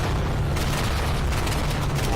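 Carpet bombing in the Day of Infamy video game, a dense, continuous rumble of loud explosions booming over one another without a break.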